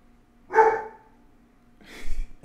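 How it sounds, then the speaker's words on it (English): A dog gives two separate barks, a sharp near one followed by a softer, breathier one a moment later, in an otherwise quiet room. "What that dog was barking for?"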